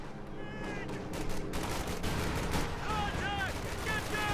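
Anti-tank rifle grenades fire during a Company of Heroes 2 battle, a dense, continuous clatter of gunfire and blasts with sharp whistling streaks rising near the end.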